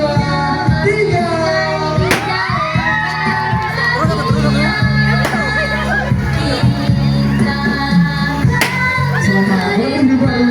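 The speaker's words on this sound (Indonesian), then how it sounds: "Berikan tepuk tangan yang meriah untuk Rifa dan juga Sima" Wedding guests clap for the newlywed couple amid a lively crowd, with children shouting and voices chattering over the applause and sharp, loud claps and bursts cutting through the noisy hall.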